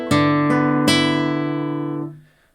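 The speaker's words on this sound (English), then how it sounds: "And now I'm just going to move my hand towards the bridge." A Spanish guitar's strings are plucked near the bridge: three bright, close plucks in quick succession, ringing together with rich overtones and then fading out, with no talking.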